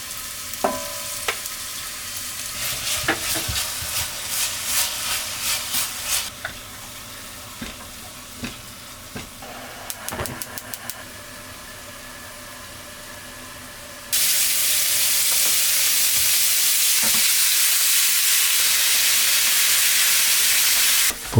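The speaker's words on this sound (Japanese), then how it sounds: "それでは野菜を炒め始めますよ。" Vegetables stir-fried in a pan for a Bolognese sauce, opening with rattling clatters and tosses, then quieter scattered knocks, before a loud, steady sizzle takes over for the last stretch.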